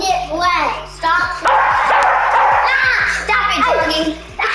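A dog barks repeatedly up close in rapid yapping bursts, mixed with whimpering, while someone talks over it throughout.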